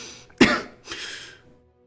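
A voice imitating insistent coughing: one sharp, harsh cough followed by a softer, breathy second one, close and alone.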